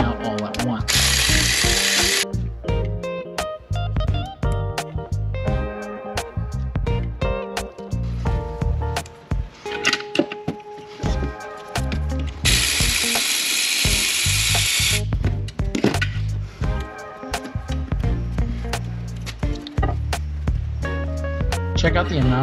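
Ratcheting and power-tool bursts loosening the front differential cover bolts on a 2019-or-later Chevrolet Silverado with the 5.3 or 6.2 engine, loud and close. Clanks and repeated mechanical clicks come in between.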